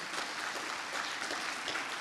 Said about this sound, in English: So please, let's give a big round of applause to Khadija Ismailova.